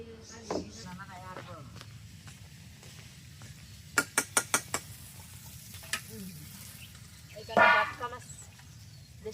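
Eggplant frying in a pan at home, a steady soft sizzle running throughout beneath a person talking, with a few sharp clinks of utensils.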